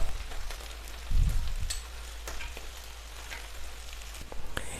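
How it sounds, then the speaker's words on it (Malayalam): Reserved frying oil is poured over chicken mandi rice and sets off a soft sizzle, with a brief louder gush early on before the crackle settles to a faint hiss. "ഇനി നമ്മൾ നേരത്തെ ഫ്രൈ ചെയ്തപ്പോൾ കോരി മാറ്റി വെച്ച ഓയിൽ ഒഴിച്ചു കൊടുക്കാം"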